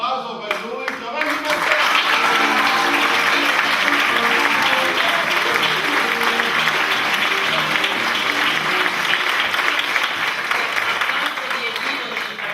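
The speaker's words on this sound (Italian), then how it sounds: "un grosso applauso per lui" Loud sustained applause from the audience of a Sicilian dialect comedy in two acts, honouring a member of the theatre company, with dense clapping throughout and faint voices beneath.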